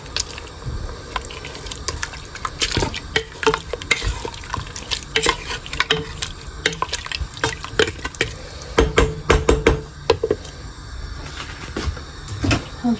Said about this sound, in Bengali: একটু কষাই নিব।